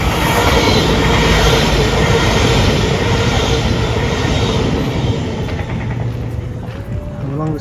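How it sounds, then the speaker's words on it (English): A Great Western Railway passenger train bound for Paignton rumbles past along the Dawlish sea wall, loud and close with broadband roar and rattling wheels, gradually easing as it moves away. "1352 Great Western Railway, service to Paignton"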